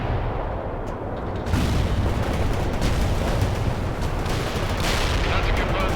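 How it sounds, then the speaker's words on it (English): Loud rocket barrage and heavy gunfire in World in Conflict, a dense wall of blasts that swells after the first second and keeps roaring to the end, with no clear voices. "Attacking the enemy with rockets"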